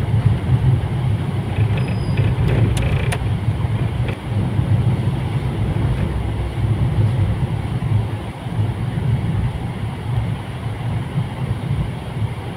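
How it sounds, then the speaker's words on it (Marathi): An Indian Railways train passes at night near Ambivali station on the Titwala–Dombivli route, with a continuous low rumble and wind buffeting the microphone, a few faint clicks early on. "हे बघा रेल्वे चालली आपली, भारतीय रेल्वे."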